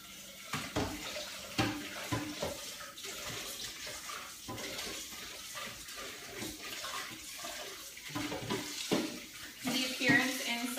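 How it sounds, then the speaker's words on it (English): A food processor bowl is rinsed under a running kitchen tap, with a steady rush of water and occasional knocks and splashes of the bowl against the sink throughout. "I'm going to rinse this out"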